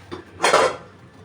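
Metal lid set onto a cooking pot while making palm-fruit pitha in banana leaves, a short clattering clank after a faint tap, close by.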